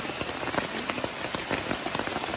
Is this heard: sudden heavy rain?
yes